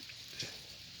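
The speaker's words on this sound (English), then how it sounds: "So, the rain, just enjoying the rain." A quiet, unbroken patter of rain outdoors, with a single slightly louder drop partway through.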